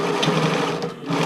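A sewing machine stitches elastic onto a tankini sports bra in a short, steady, close-up whirring run of rapid needle strokes, heard alone.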